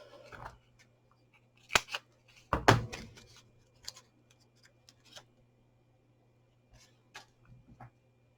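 Scissors snip through card for a fun fold card: a few distinct crisp cuts, one sharp and loud, then several fainter clicks and snips with pauses between, close and quiet overall.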